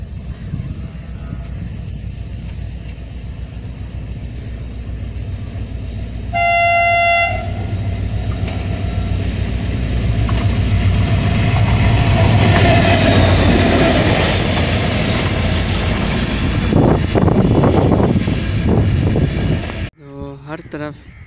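The Millat Express 17UP passes through Taranda station on a foggy day, with a loud sustained rumble of wheels and cars, a short horn blast and rising wheel squeal before the sound cuts off sharply near the end.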